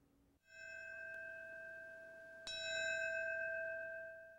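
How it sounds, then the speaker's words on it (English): A church bell tolls at a Ground Zero ceremony marking the end of the recovery and cleanup, with one clear ringing strike whose hum sustains, then a second louder strike with a long bright decay. "Today, a bell began the ceremony marking the end of the cleanup of Ground Zero."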